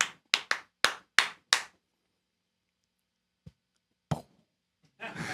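Six sharp hand claps in an uneven rhythm, counting out a six-beat pattern, followed by silence, then a couple of stray claps and a brief rustle near the end.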